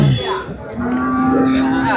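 Cattle at the Vadalur livestock market low and moo, a sustained tonal call rising through the middle of the short stretch amid market bustle, close and fairly loud.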